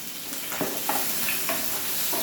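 Chopped onion dropped into hot oil already holding mustard seeds, curry leaves, raisins and asafoetida sizzles loudly and evenly, with a few stirring clicks over the constant hiss.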